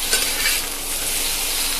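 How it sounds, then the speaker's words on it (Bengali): Bottle gourd leaf stems stir-fry with turmeric in a pan, producing a close, steady hiss of sizzling oil with slight scraping texture throughout. "আমরা এটাকে 2 থেকে 3 মিনিট একটু ভাজা ভাজা করে নেব।"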